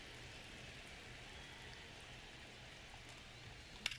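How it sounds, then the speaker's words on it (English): Rain falls in a baseball video game as a faint, steady hiss of drops, with one brief sharp click near the end. "Is it raining again?"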